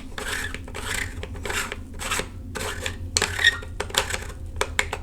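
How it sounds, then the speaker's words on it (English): Bottom cap of an MTL-900 II LED tube light being unscrewed, giving a steady close rasping, grinding scrape in repeated twisting strokes, with no one talking. "by unscrewing the bottom cap"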